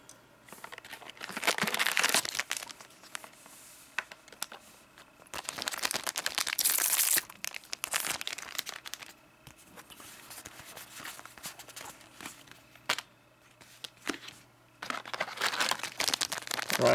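Cardfight Vanguard trading card booster packs being torn open and handled, with bursts of crinkling foil wrapper and tearing up close, separated by quieter shuffling of cards.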